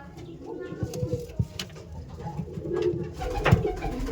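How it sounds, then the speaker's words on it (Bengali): Soft coos from Andhra breed pigeons repeat at irregular intervals, close by, with light rustling and a faint voice in the background. "এই সমস্ত পায়রাগুলো জাস্ট দেখুন"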